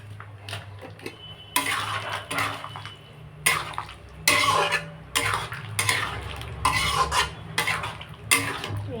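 Chili powder and turmeric are stirred and sautéed in a pan, with repeated close scraping strokes of a spoon against the metal in a steady rhythm over a low frying hiss.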